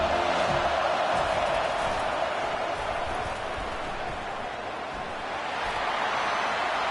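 A football stadium crowd roars in a steady, dense wall of cheering that holds throughout, loud and broad with no single voice standing out.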